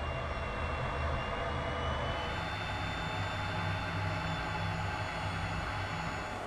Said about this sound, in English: United States Marine Corps F-35Bs dropping simulated ordnance atop target structures in Mountain Home Air Force Base